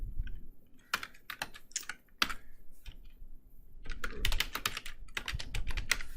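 Keys clatter on a computer keyboard in a quiet classroom setting, close-up bursts of rapid clicking separated by short pauses, with no talking.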